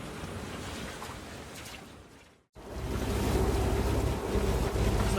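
Strong wind gusting at 25 to 40 knots roars around a sailboat at anchor. A loud, steady rushing blast drops away briefly and then surges back, heavy and close, with no talking.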